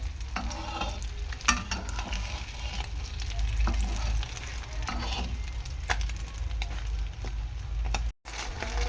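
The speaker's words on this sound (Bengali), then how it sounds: "খিচুড়ির সাথে খাওয়ার জন্য এই যে ডিম ভেজেও নিচ্ছি" Eggs fry in a pan alongside freshly cooked khichuri, giving a steady close sizzle with a few stirring scrapes and clicks throughout and a brief dropout near the end.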